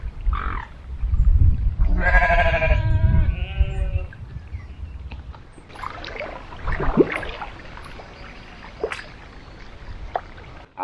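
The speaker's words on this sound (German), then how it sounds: "Der Schwan ruft zu den Enten, zu den Schafen darüber und die antworten." Sheep bleat near a lake or river, answering a swan's call, with a burst of harmonic bleats early on, then fainter animal calls, splashing and outdoor noise while paddling an inflatable Gumotex Rush 2 kayak.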